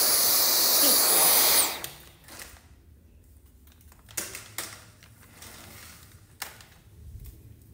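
A vacuum cleaner runs loudly on a staircase for under two seconds and then shuts off, leaving soft scattered taps and knocks in a quiet room.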